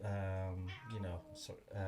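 A pet cat meows indoors, asking to be let up, with drawn-out tonal cries close to the microphone alternating with a person talking.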